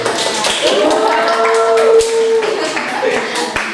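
Brief classroom applause, a scattered patter of claps and taps heard alongside talking and a sung or hummed tone in a lively room.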